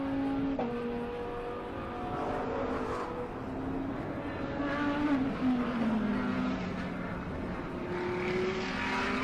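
Ultimate Outlaws McLaren MP4-12C race car on a racing circuit during a race, its engine note climbing and dropping through gear changes, loud and steady with no voices over it.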